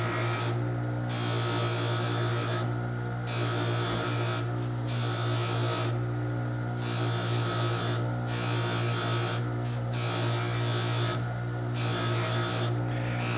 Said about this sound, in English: Charge the wheel, and it's just a matter of polishing it up.